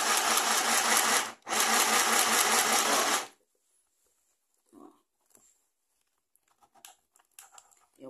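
A mini sewing machine stitching in reverse, with a loud, fast mechanical whir close by that runs about a second, breaks briefly, then runs again for two seconds before stopping, followed by faint handling clicks and rustles.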